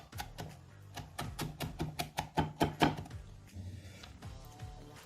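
A knife chops vegetables such as onions, carrots and garlic on a cutting board, with a quick run of about a dozen sharp, close taps that build up and then thin into a few softer knocks.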